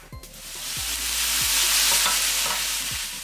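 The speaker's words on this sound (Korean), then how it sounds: "팽이버섯 넣고 소금 3꼬집, 후추 약간 넣고 볶아서" Enoki mushrooms with chili, seasoned with salt and pepper, stir-fry in a hot pan, a loud steady sizzle broken by a few rhythmic scrapes of the spatula.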